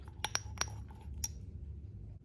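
Gummy candy mixture is stirred in small containers: a few light, bright clinks of utensil against the containers in quick succession, then a final tap, quiet and close with a faint low hum beneath.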